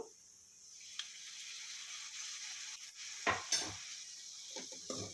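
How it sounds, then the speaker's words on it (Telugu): Cumin potatoes (jeera aloo) frying in a pan with spices and lemon juice, a soft steady sizzle under occasional scrapes and clinks of a stirring utensil against the pan, quiet and close. "ఇవన్నీ బాగా మిక్స్ చేసుకొని ఒక 10 మినిట్స్ ఇలా ఫ్రై చేసుకోండి"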